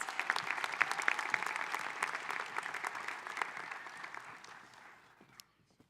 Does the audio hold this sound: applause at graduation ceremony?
yes